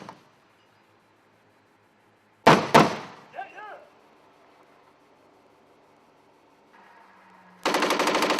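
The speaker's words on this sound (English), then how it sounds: "That's the coaxial machine gun. That's not the 25mm there." A Bradley's coaxial machine gun fires in the Armored Warfare tank game, two sharp loud bursts followed by a clattering echo, then a quiet lull before a final rapid burst of fire.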